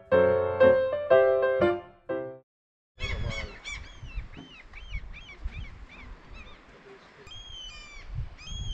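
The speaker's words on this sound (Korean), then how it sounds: "갈매기 소리가 크게 들리고" Seagulls call again and again over a quiet fishing village set between a mountain and the sea, their sharp cries overlapping above a low, steady background rumble. A brief tonal passage is heard at the start.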